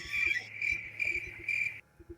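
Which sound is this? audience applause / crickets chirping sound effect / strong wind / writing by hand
crickets chirping sound effect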